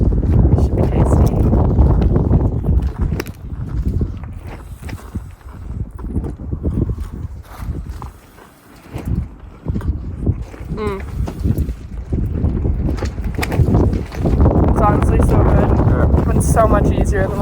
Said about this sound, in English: But the wind's back.